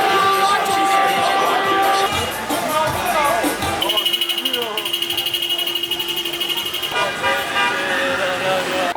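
Car horns honk repeatedly amid a noisy street crowd with flags and traffic in Kocaeli, Turkey, with people talking and shouting throughout.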